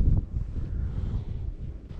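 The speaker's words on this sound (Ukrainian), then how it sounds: "А тепер ще вітер піднявся, тепер ще гірша справа." Wind gusts across the microphone on the Dnipro river during a fishing trip, a steady low rumbling buffet with no other clear sounds.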